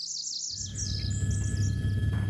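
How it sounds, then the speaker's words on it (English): Songbirds in Burns Bog chirp and trill in quick high bursts over a steady low outdoor rumble, with several calls overlapping at moderate distance. "Songbirds are abundant in the bog"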